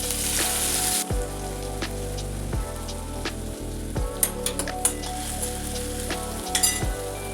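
Chopped onion sizzles steadily in hot oil with mustard seeds, a home momo filling in progress, with a few soft clinks of a spoon against the pan scattered over the continuous frying hiss.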